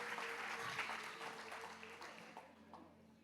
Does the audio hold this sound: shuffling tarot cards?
no